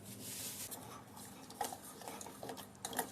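A spoon stirs jaggery into water in a metal pot, quiet repeated scraping strokes and light clinks against the sides, with no talking.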